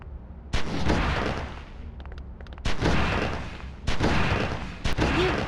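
Loud gunshots at a shooting-training range in the video game Oni, four sharp blasts spaced about a second apart, each with a booming tail, with faint clicks between.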